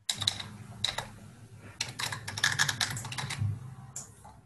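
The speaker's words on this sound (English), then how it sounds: "Particularly if you're typing quite enthusiastically." Rapid bursts of clicking keys on a computer keyboard, typed in uneven clusters with short pauses, fairly close and moderately loud.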